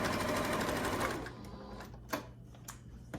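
Sewing machine back stitching on a tote bag panel, a fast close mechanical whir that stops after about a second, followed by a few faint clicks and handling taps.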